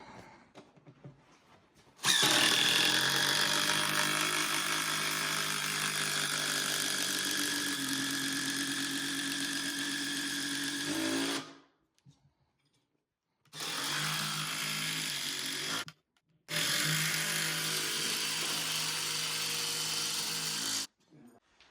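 A power drill drives six screws through a thick top into the legs of a handmade log table built from massive timbers, a loud sustained whine for about nine seconds, then two shorter runs after brief pauses.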